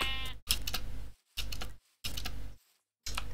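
Sheep bleating in Minecraft, several short bursts separated by brief silences, each clear and close with a wavering voiced tone.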